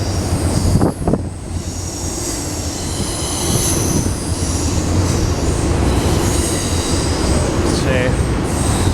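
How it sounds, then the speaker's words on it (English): Train with distributed power units rolling past close by, a continuous loud rumble of railcars with metallic wheel squeal rising near the end. "DPUs on this train."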